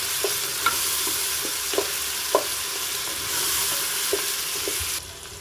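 Ginger-garlic paste frying in a pan for mutton paya curry, a steady sizzle with repeated scrapes and clinks of a stirring spoon, continuous and close, with no voices.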